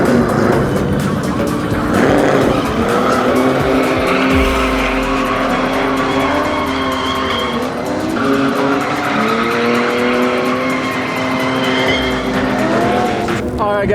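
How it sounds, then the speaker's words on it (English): A cheap BMW E36 drift car slides through a drifting event with long wavering tire squeals layered over a loud, revving engine, the screech rising and falling in pitch as it holds the slide close by. "We're doing a lot of sick drifts."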